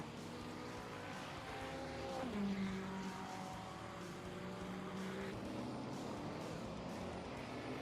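A Ferrari GT3 race car engine in a racing game at the Norisring circuit, a faint, steady whining drone that shifts pitch as it revs, heard alone.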